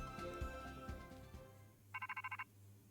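A Rotom Phone in a Pokémon game trailer rings with a quick burst of about seven bright electronic chirps, following a stretch of music and effects.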